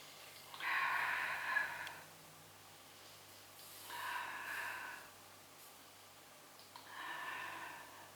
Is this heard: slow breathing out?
yes